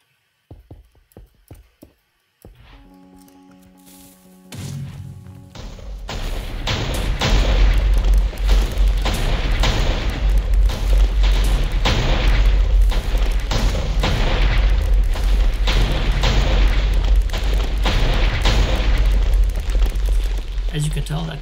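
Automated anti-aircraft cannons in a Minecraft-style building game fire a few scattered blasts at first, then build into a dense, rapid, continuous barrage of loud explosive booms that keeps going to the end.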